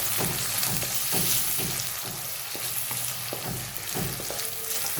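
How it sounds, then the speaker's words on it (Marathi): Chopped tomatoes sauté with finely chopped onion in a pan for a chicken masala, a constant close sizzle broken by regular scraping stirs of the spoon, loud and without talk. "टोमॅटो पण चांगले परतून घेणार आहोत."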